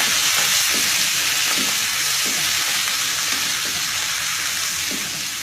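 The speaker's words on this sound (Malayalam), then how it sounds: "ഇഞ്ചി വെളുത്തുള്ളി കറിവേപ്പില പച്ചമുളക് എല്ലാ ഇൻഗ്രീഡിയൻസും നമ്മൾ ചേർക്കും നന്നായി യോജിപ്പിക്കുക" Ginger, garlic, curry leaves and green chili fry in hot oil for a fish tomato curry, a loud, dense, unbroken sizzle with faint stirring scrapes underneath, close up and without speech.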